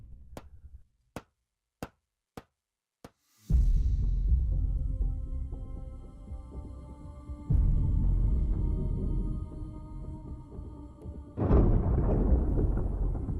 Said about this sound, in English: Thunder rumbles low and unnatural tension fills the air.